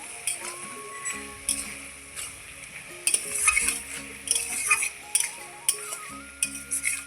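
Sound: stirring spinach curry in a pan

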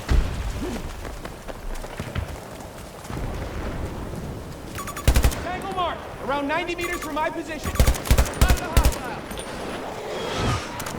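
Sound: gunfire in video game Battlefield 2042

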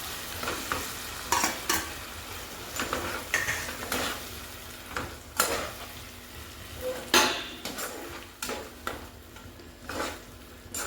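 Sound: stirring and mixing tomato and spice paste in a pan

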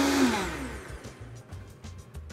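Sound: blender pulsing crêpe batter with eggs, sugar and butter

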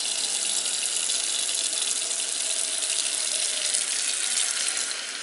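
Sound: water running through a filter

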